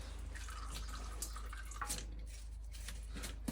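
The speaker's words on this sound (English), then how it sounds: "Still oil draining out a little bit" Oil dripping slowly from a Thwaites dumper during a refurb, light intermittent drips in a quiet workshop over a steady low hum.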